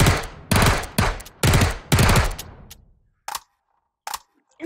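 Four long, loud bursts of rapid automatic gunfire from a gun in the VR shooter H3VR, each about half a second, followed by two short, sharp single clicks or shots after a pause, close and dry.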